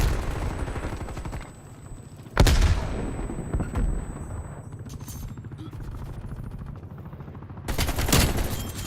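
AK rifle fire in an online first-person shooter game, a few sharp bursts of shots, one near the start and one near the end, over quieter background game sound.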